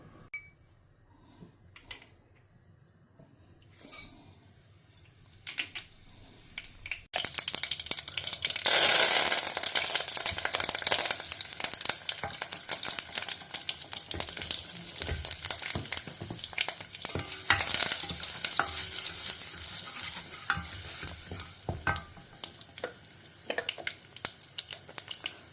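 Sambar powder and spices frying in hot oil for kuzhambu: quiet at first, then a loud, dense sizzle with stirring and scraping that holds steady to the end, no voices.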